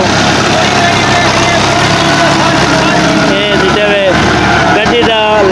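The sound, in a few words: tractor engine running in field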